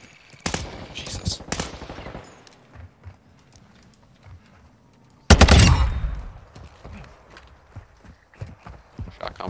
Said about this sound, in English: Shotgun blast to the back of the head.